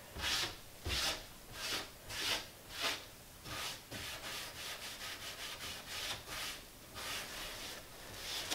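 Steady back-and-forth rubbing of a distressing finish onto wood, a soft rasping swish repeating roughly every half second, close and alone without any voices.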